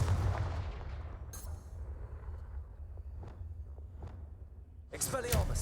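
The Confringo spell is cast in Hogwarts Legacy, building to a loud, bright burst with crackling blasts at the end, after a deep thud and scattered clicks over low rumbling ambience.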